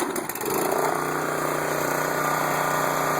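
A pressure washer powered by a Subaru engine runs steadily, a loud close mechanical drone with a fast pulsing rhythm that settles in after a brief rougher start.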